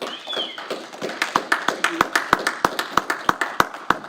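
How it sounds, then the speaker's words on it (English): A small group at a Rotary Club meeting in Hicksville claps for a speaker named Bill, starting with scattered claps that settle into a steady, fairly sparse rhythm of distinct, close hand claps over about four seconds. "So please give a round of applause for Bill"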